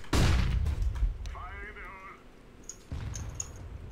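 A single loud gunshot opens the moment in a CS:GO match, followed by a quieter mid-section with a short tonal effect and then more dull impacts, as players talk over it.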